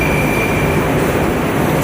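Loud, steady roar of a Moscow metro train in motion, with a thin high whine riding over the rumble; no voices.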